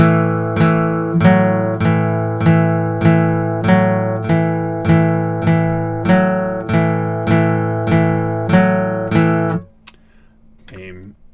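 A plucked guitar riff played with rest strokes repeats in a steady rhythm of firm, evenly spaced notes, ringing close and clear before stopping with a brief final strum.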